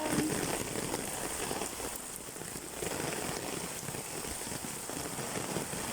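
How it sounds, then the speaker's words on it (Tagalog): Heavy rain pours steadily in a dense, hissing wash of drops striking surfaces, loud and unbroken throughout. "Lumakas lalo ang ulan."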